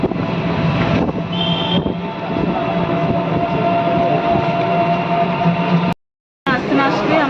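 A local train ride out of Howrah: a steady rumbling drone of the carriage in motion, loud and continuous, with people talking over it.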